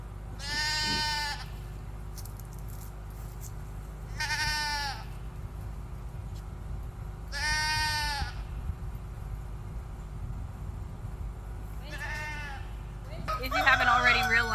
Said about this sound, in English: goats are very loud when they want something, and right now they want grain